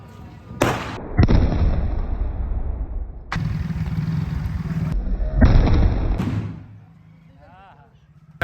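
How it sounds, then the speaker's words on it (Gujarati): Murlidhar brand firecrackers burst during a Diwali celebration in several loud, sustained crackling volleys separated by brief gaps, then the noise fades to quieter background sound at the end. "મુરલીધર ફટાકિયા અમે લાવ્યા છે આપણે"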